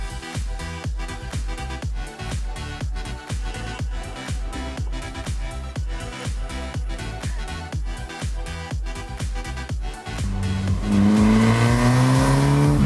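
Restored Honda Civic EK3 Ferio: a loud, close engine rises and falls in quick repeated revs, then holds a sustained full-throttle howl that climbs in pitch near the end.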